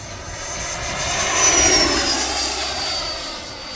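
Small radio-controlled jet capable of about 130 mph passing at full throttle, a steady loud turbine whine with a rising and falling pitch sweep as it roars by, swelling toward the middle then easing off, with no talk.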